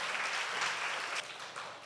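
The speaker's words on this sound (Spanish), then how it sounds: "nos unamos en un fuerte aplauso, aplauso por favor, para el ministro Esponda" Congress audience applauding a minister, a quiet, distant wash of steady clapping from many hands that tapers slightly toward the end.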